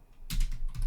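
A few quick keystrokes on a computer keyboard entering a command on a Raspberry Pi setup, close and brief clicks over a low background hum.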